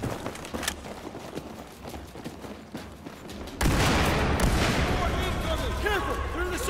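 Dense gunfire from a Battlefield 4 firefight, starting sparse and distant, then erupting into a loud, sustained fusillade of rapid overlapping shots and bursts with clattering effects, with no talking.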